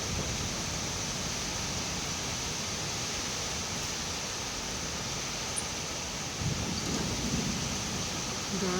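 Steady, heavy rain during an evening thunderstorm with a mini tornado, a dense continuous wash of noise with a slight swell near the end and no clear thunder claps, heard alone without talk.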